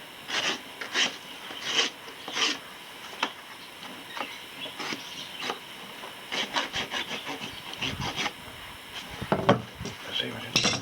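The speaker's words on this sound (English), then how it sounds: "So I'll use the rasp." Steel rasp filing a horse's hoof during a trim, sounding as repeated rough scraping strokes in uneven bursts, up close, with people talking over parts of it.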